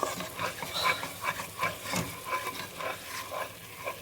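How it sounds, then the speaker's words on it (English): Flour and sweated vegetables cooking into a roux for lasagna in a pan, a spoon stirring in repeated scraping strokes over a soft sizzle, close and fairly quiet, with no talk. "So I'm just going to keep stirring and cooking before I add the milk."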